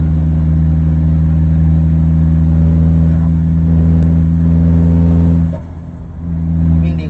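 A 2020 Isuzu All New 1.9 pickup with an upgraded limited-slip rear differential drives with a loud steady engine drone heard from inside the cab, dipping briefly as the revs fall and then building again.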